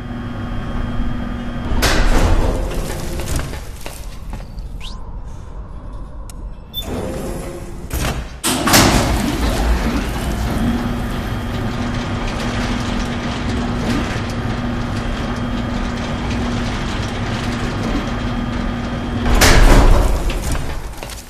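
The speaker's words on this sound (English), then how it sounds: "Try the elevator and see if it's working." Elevator machinery in Metal Gear Solid 4 clanks and ratchets into motion, with mechanical bursts near the start, a steady whirring hum through the middle and a loud clunk near the end.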